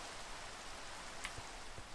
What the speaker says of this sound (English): I didn't turn off the rain effect.